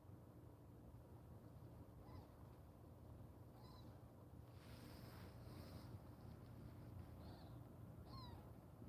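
Faint, thin squeaks from tiny kittens pop up a few times over a steady low rumble of background noise.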